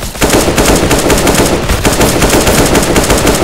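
Rapid automatic gunfire in Counter-Strike: Global Offensive, loud close bursts of dense rattling shots repeating almost continuously, with no talk over it.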